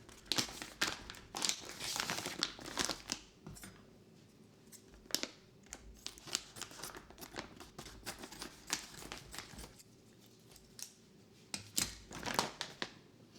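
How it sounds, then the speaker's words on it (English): Someone opens a plastic bag of bread flour in a kitchen, making a series of sharp crinkles and rustles in irregular bursts, close and fairly quiet with pauses between handlings. "So I need to open this bag."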